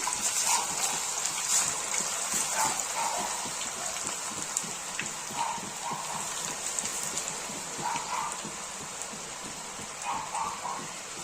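Sliced snake gourd chips deep-frying in hot oil in a kadai, a steady dense crackle and hiss like rain, close and continuous with no talk.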